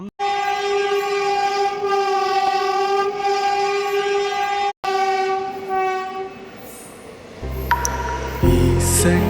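A train horn blares at Unkal railway station in long, steady harmonic tones, cuts off briefly, then sounds again and fades as rolling rail noise and clanks take over near the end.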